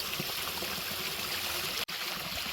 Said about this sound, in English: You see how much water is flowing now. It's pretty loud out here.